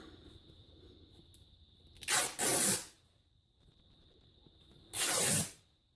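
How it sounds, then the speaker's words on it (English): Fabric ripped by hand after a small snip while making floral fabric envelopes: two loud, close tearing bursts, the first in two quick pulls and the second a single rip, separated by quiet room hum. "and then I'm just going to rip that"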